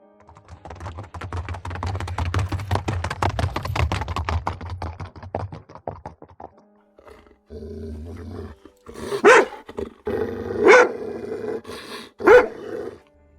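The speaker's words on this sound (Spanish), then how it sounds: "Un enorme y gran perro salió desde la vegetación." A large dog snarls and growls in a rough, sustained rumble, then lets out a few sharp, loud barks spaced apart.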